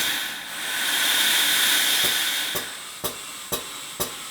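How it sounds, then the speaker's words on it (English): Compressed air hisses steadily into a cracked inner tube on a split-ring rim wheel, a loud sustained rush that swells, then gives way to a series of evenly spaced sharp puffs or pops near the end. "I know that tube's got a crack, but let's see if it'll pump up at least a little bit."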